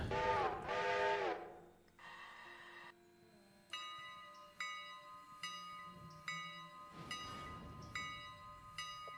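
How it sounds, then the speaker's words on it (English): A train in the railroad sim game Railroader gets under way, with rumbling rail noise under a series of bright, evenly spaced bell-like chimes and a brief horn-like tone near the start. "Let's get this train moving."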